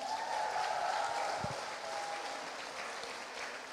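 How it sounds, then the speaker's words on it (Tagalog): Congregation at a church healing service gives a round of applause, a fairly faint, continuous wash of many hands clapping heard from a distance, with a brief low thump partway through and no speech over it. "Pumalakpak nga po ang lahat ng mabuti."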